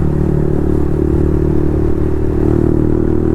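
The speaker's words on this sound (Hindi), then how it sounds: "साउंड तो म्यूजिक जैसा है एग्जॉस्ट का।" Yamaha MT 15 motorcycle fitted with an Akrapovic full-system exhaust, heard as a loud, steady engine drone with a deep throbbing note held at a constant pace throughout.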